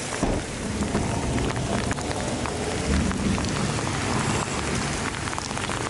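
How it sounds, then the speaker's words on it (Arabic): Heavy rain in Tabuk pouring down steadily, a dense close hiss of drops hitting surfaces with a low rumble underneath, continuous and loud throughout with no talk. "أمطار غزيرة"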